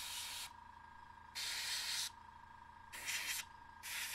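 An aerosol spray can hisses onto the sharp edges of a painted Mechanicum Ordinatus miniature in three or four short, steady bursts separated by quiet pauses.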